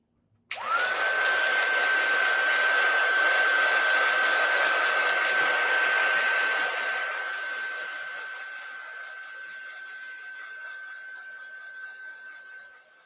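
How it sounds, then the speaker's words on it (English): A craft heat tool roars on suddenly as it heat-sets stamped ink on card, a loud steady blowing hiss with a high whine that eases slightly after several seconds and runs on to the end, with no talking. "I'm going to heat set this so that ink is dry so we can color it with our alcohol markers."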